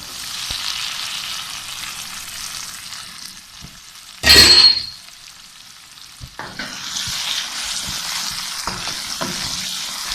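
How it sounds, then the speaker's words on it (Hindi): Chicken curry masala frying in a pan, a soft steady sizzle with a brief loud clatter midway, then the frying hiss returns with faint stirring taps. "बहुत अच्छी तरह भुन चुका है मसाला।"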